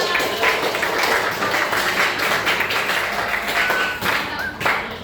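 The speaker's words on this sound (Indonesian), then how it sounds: "Oke, tepuk tangan untuk kelompok A." A room full of people clapping, a dense steady patter of applause held at even strength throughout, with a few voices faintly mixed in.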